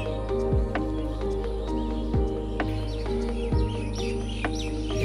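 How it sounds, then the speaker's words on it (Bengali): Near a rural pond and mud cottage, a bird calls out in a steady repeating pattern against a constant low droning hum, with another bird chirping faintly in the background; cattle can be heard off to one side. "এখানে কিন্তু ঘুঘু ডাকছে,"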